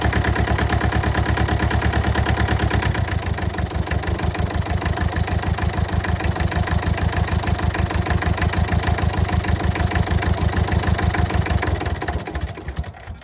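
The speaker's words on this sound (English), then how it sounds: "Its throttle's really gummy, really stiff. It's cold. I'm trying to get it idle." A cold car engine idles roughly on a 30-degree morning after a cold start with a stiff, gummy throttle, a loud, close, steady chugging pulse that slows slightly before cutting off near the end.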